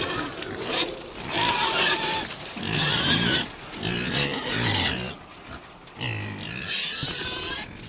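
A homestead cow named Nan sniffs and snorts right up close, breathy, rumbling grunts and huffs filling the sound in loud waves with brief lulls, and no talk over them.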